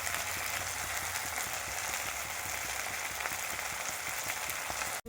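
Steady broadband sizzle of spices frying in oil in a pan for pomfret fish curry, with soft irregular clinks of stirring running throughout at close range, cutting off abruptly at the end; no one speaks.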